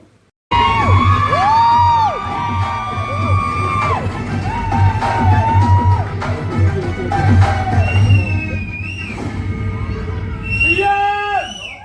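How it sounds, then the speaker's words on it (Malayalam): Cinema audience at a Tamil Vijay film screening erupting in sustained loud cheering, whoops and shouting, with high-pitched whistles and a steady rumble of the film's soundtrack underneath throughout. "അങ്ങനെ ആഘോഷങ്ങളും ആരവങ്ങളൊക്കെ ആയിരുന്നു കേട്ടോ ഇത്ര നേരം"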